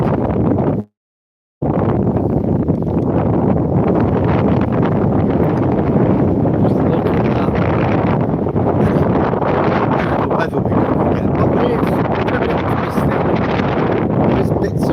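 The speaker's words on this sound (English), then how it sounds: "it'll be okay, but it's very windy" Loud, constant wind buffeting the microphone, a roaring rumble that barely lets up apart from one brief dropout near the start.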